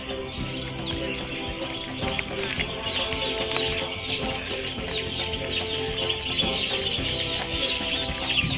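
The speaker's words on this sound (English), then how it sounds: "The birds chirping" A dense, continuous chorus of outdoor birds with clucking fowl among them at an African safari lodge, steady and lively throughout, with scattered chirps and calls near and far.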